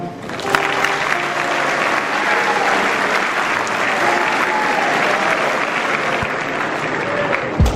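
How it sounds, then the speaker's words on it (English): An indoor military audience gives a sustained round of applause, dense steady clapping from many hands lasting several seconds, with a few brief voices underneath. "General Scott Miller with a warm round of applause."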